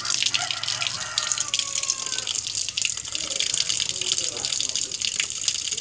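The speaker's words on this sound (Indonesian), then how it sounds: "Ini kalian bisa gunakan air keran ataupun istilahnya air sir gitu ya." Tap water pours straight from a faucet into a car battery being topped up, a steady close splashing and gushing stream that runs throughout, with faint voices underneath.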